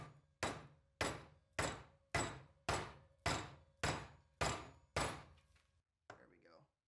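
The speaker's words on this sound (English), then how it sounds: "Definitely want to try and hammer it in as straight as possible." A hammer drives a 3/4-inch bushing into a rear control arm of an AWD Mini Cooper, with nine loud, evenly spaced metallic blows about half a second apart, then a pause and one softer knock.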